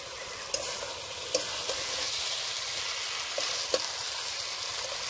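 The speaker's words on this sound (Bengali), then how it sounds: "এবার দিয়ে দেবো ভেজে রাখা সয়াবিন আর আলু।" Fried soybean chunks and potatoes are stirred into a hot pan of curry, sizzling steadily close by with a few sharp scrapes of the spoon.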